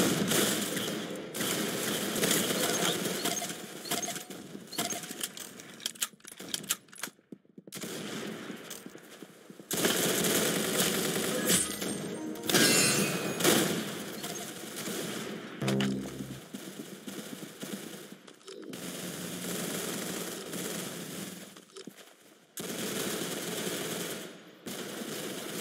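Long stretches of automatic gunfire in a video game, loud rattling bursts broken by short silent gaps, with scattered single shots between volleys.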